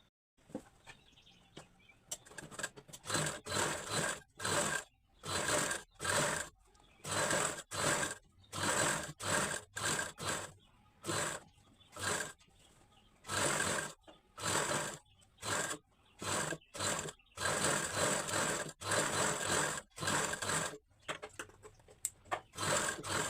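Sewing machine stitching the neckline of a katori blouse, running in repeated short bursts of fast whirring stitches separated by brief pauses, close and clear with no talk.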